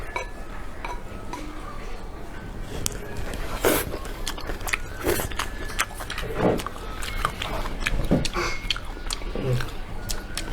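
A family eats a home-cooked Chinese meal with meat sauce, with scattered clinks of dishes and cutlery, bites and chewing close by, and soft voices in the background.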